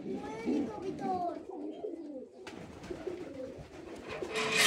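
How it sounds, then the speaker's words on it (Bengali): Fantail pigeons coo softly at a pigeon farm, low throaty calls heard close under someone speaking throughout. "এটা হলো ময়ূরী কবুতর।"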